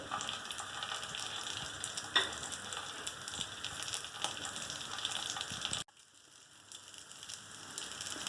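Cabbage slices, green chili and onion fry in a pan with a steady close crackling sizzle and a few stirring clicks, then the sound drops sharply to a quieter sizzle near the end; no voices.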